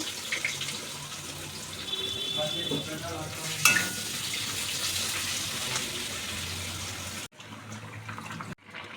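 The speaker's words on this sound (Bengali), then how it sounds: "কড়াই তেল দিয়ে দিয়েছি, অল্প পেঁয়াজ দিয়ে দেবো। পেঁয়াজটা ভেজে নেব।" Chopped onions fry in oil in a kadai while being stirred, giving a loud, steady sizzle with scraping stir sounds that cuts off briefly near the end, with no voices.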